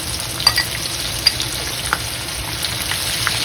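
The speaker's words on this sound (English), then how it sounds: "I'm gonna put my chili and onions in here." Chili and onions fry in a pan with a steady close sizzle, punctuated by a few soft stirring clicks and no speech.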